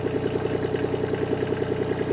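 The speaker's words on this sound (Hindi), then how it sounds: "इस तरह का कुछ साउंड करती है ट्रैक्टर।" Sonalika GT 22 three-cylinder mini tractor engine idling close by, a steady low chugging rumble with a rapid even pulse and light mechanical clatter, no talking.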